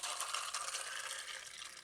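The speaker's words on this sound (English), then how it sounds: "Then you just pour it right in." A drink for a gumball mocktail being poured into a glass, a soft, steady hiss of liquid filling for about two seconds, close and fairly quiet.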